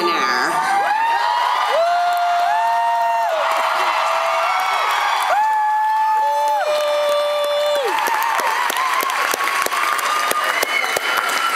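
Concert crowd at the Riverside Theater in Milwaukee applauding and cheering for the drummer at a show, steady dense clapping with whoops and sustained tonal swells from the band over it throughout.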